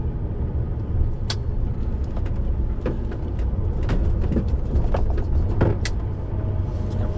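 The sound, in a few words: cars passing on a road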